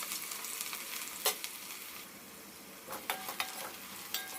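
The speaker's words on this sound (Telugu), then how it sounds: "ఇప్పుడు కట్ చేసి పెట్టుకున్న ఆనియన్స్ వేసుకుందాం" Chopped onions fry in hot oil with a steady, close sizzle, broken by a few sharp clatters as they are stirred around the pan.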